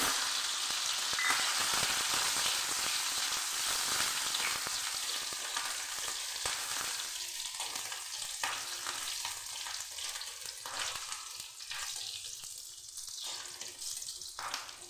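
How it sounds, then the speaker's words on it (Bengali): Garlic and a green chili fry in mustard oil, sizzling and spitting steadily in a pan, with occasional stirring scrapes; no voices. "একটু হালকা করে আমি ভেজে নিচ্ছি"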